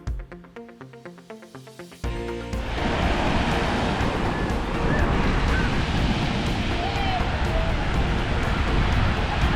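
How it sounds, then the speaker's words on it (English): Strong wind blows across a sandy beach on St. Thomas, a steady loud roar of gusts hitting the microphone and masking distant surf, starting abruptly after a couple of seconds of quieter rhythmic sound. "It's these big wind gusts that come and blast us with sand"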